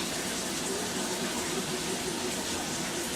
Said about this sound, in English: Sorry if you hear the water in the background.